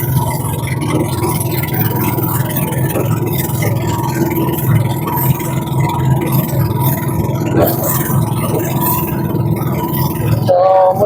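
Two boat engines run at a steady mid-pitched drone on a trip toward a fish pond in Lipacan, the hum constant and close, with a brief change near the end.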